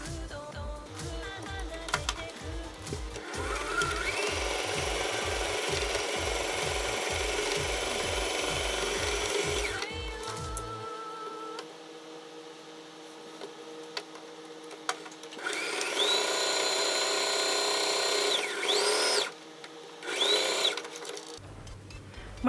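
A sewing machine stitches the side seams of a fabric cami top in two long runs with a pause between them. Its rapid needle chatter is close and fairly loud, and it ends with short bursts.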